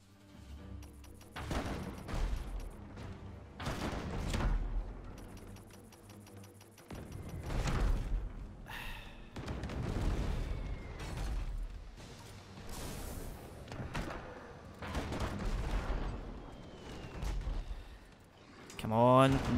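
Ship cannons fire at a ghost ship in the Abandon Ship video game, with repeated booming volleys and rumbling blasts spread across the stretch and some quieter gaps between them.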